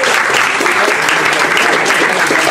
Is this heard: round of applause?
yes